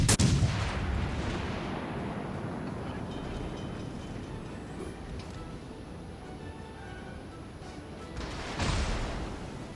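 Naval battle game gunfire with ships under fire: a dense, continuous rumble of cannon shots and booms, with a loud burst at the start and another swell near the end.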